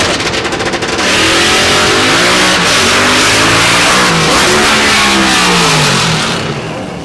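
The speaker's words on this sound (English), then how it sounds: "Watch it get down, stick shift action." A nitrous-fed 1955 stick-shift drag car launches hard at Texas Motorplex, engine roaring loud and close, pitch climbing through gear changes before a stumble as the shift goes wrong.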